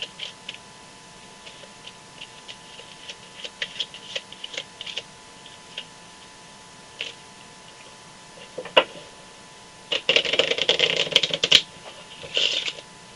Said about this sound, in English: Now I'm just going to do a little shuffling.